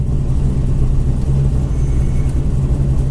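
A junkyard Camaro engine idles in limp mode with a steady, loud, low rumble that holds even throughout, with no talk.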